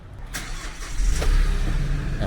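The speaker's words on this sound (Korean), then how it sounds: "엔진 소리도 좋고요" A Kia Bongo 3 low-floor refrigerated truck with a dual compressor runs its engine in a steady, close, moderately loud rumble that firms up partway through.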